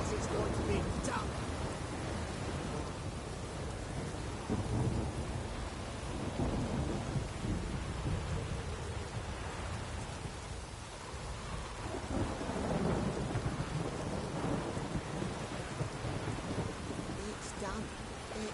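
Rain and rolling thunder from The Witcher 3: Wild Hunt make a dense, steady wash of rainfall with low rumbles swelling and fading, while a voice talks over it.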